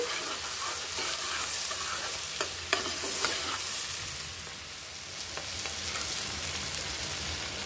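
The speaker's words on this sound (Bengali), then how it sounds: "এবার আমি পেঁয়াজ কুচি দিয়ে দিচ্ছি। পেঁয়াজগুলোকে হালকা ব্রাউন করব" Chopped onions hit hot oil in a pan and fry to a light brown, giving a steady, close hiss with scattered clicks and scrapes from stirring throughout.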